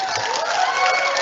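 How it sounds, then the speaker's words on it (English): Applause from the audience at a 2020 MA Interior Architecture diploma ceremony, a steady broadband clapping and light cheering that fills the whole moment without pause. "some applause."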